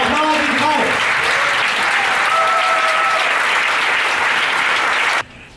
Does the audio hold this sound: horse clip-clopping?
no